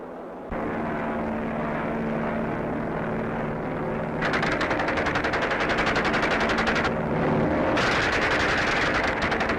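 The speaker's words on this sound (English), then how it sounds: "Here they go to machine gun a target on the ground." A Hawker Hind biplane trainer roars overhead with its propeller engine droning while it machine-guns a ground target, long loud bursts of rapid fire chattering over the steady engine noise.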